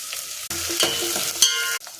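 Garlic and onion dropped into hot oil in a pan for an anchovy fish curry, loud close sizzling that cuts in and out in short bursts with stirring scrapes, no speech.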